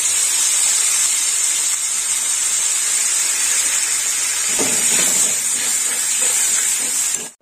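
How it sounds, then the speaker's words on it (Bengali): Spice masala with mustard paste sautéing in a pan for an eggplant and bori curry gives a steady, loud, close sizzling hiss throughout, with scraping stirring sounds joining in the second half. "মশলাটা একটু কষা হবে।"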